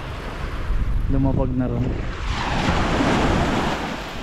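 Ocean waves breaking and washing onto the shore at Mission Bay, Auckland, a steady broad surf roar with wind noise, while someone talks briefly over it near the start.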